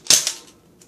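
A Nerf Barricade RV10 dart gun fires once, a sharp close snap followed by a brief decaying rattle, with a faint click near the end.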